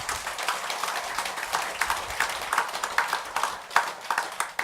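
Audience at a temple dharma service claps together, a steady patter of many hands that swells and dips unevenly over several seconds, with no voices over it.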